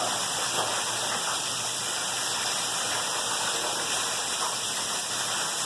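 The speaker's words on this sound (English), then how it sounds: "The rain's picking up." Heavy rain pours steadily outdoors during Hurricane Irma in Florida, a dense continuous hiss of water that stays loud and unbroken, with no talk.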